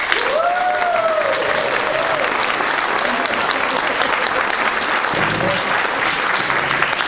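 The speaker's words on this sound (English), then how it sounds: "big round of applause for the host of today's event, Congressman Pete Aguilar" A crowd gives loud, sustained applause welcoming a congressman as host of a senior fair at a cultural center, dense clapping throughout with some cheering voices and brief speech mixed in.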